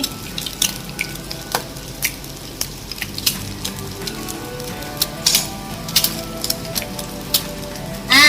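Steady sizzling of an egg frying in a pan, with scattered sharp crackles and pops and occasional scraping clicks of a spatula.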